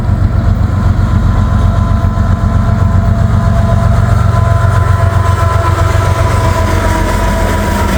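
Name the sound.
freight train with locomotive and auto rack cars passing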